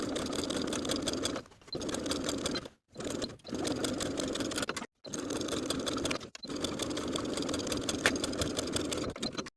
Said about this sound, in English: top stitch both of those curved edges with about 1/4 inch seam allowance